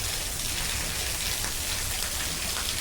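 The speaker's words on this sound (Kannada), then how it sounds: "ಮೆಟ್ಲ ಮೇಲಿದ್ದ ದಬ ದಬ ದಬ ದಬ ದಬ ಬೀಳ್ತಾ ಇದಾವೆ ಅಲ್ಲಣಿಗೆ ನೀರೆಲ್ಲ ದಬ ದಬ ದಬ ಬೀಳ್ತಿದ್ದಾವೆ" Heavy rain pours down, water splashing steadily onto house steps in a dense, continuous hiss with no pauses.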